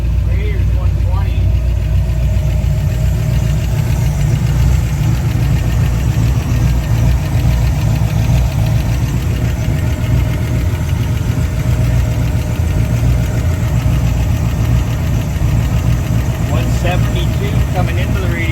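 A 1962 Ford Falcon engine runs steadily just after start-up, close and loud, with a continuous low rumble and ticking valve clatter. Faint voices can be heard under it.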